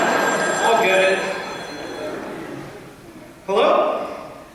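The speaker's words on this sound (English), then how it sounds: "That's the phone, Ken." An old telephone bell rings in a home, loud bursts of ringing that start, pause and start again, mixed with people talking nearby.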